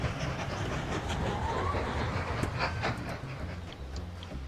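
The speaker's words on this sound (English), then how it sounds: "Iron ore train." An iron ore freight train in the Mashinky railway game rolls steadily along its rails, a continuous rumbling clatter with rhythmic wheel clicks that holds at a fairly even loudness throughout, with no talk over it.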